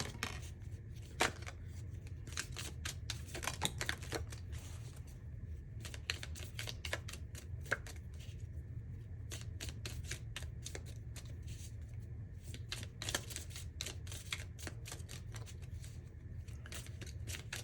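Tea leaf fortune cards being shuffled by hand, close and steady, with rapid papery riffles and flicks repeating throughout over a faint room hum, no talking.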